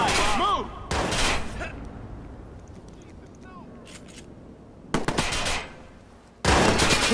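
Gunfire in the Watch Dogs video game comes in loud, dense bursts of automatic fire, several separate volleys with quieter gaps between them, while voices shout close by.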